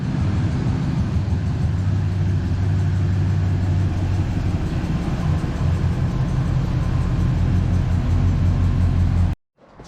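A Jeep Scrambler's engine runs close by as it is driven slowly into a garage, a steady low idle with slight revving that cuts off abruptly at the end.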